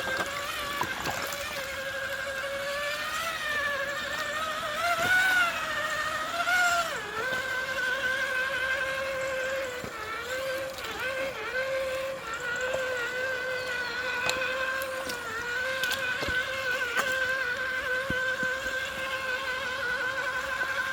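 A radio-controlled Traxxas TRX4 Defender truck on Swamp Claws tires grinds through a mud bog, its motor whining steadily with rising and falling pitch amid wet sloshing, close and continuous.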